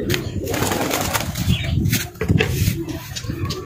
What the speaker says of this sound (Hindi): तो गाइस ये कबूतर तो उड़ रहे हैं